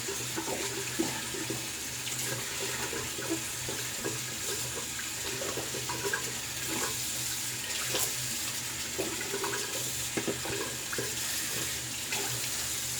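A shaving brush being rinsed under a running tap: a steady close splashing stream of water with small fluctuations continues throughout, no voices.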